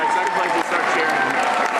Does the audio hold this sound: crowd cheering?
yes